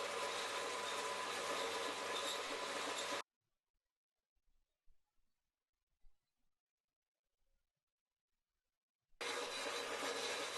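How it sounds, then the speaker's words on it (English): A bandsaw cuts a slot in metal angle with a loud, steady, harsh whir. The sound stops abruptly into near silence with a few faint knocks, then starts again just as loudly. "Cut a slot, also 20mm. I'm doing this on a bandsaw"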